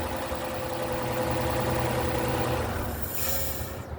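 The 3.5 engine of a 2006 Chrysler 300 idling right after a timing belt and water pump replacement, a steady close hum that runs evenly throughout with no talk.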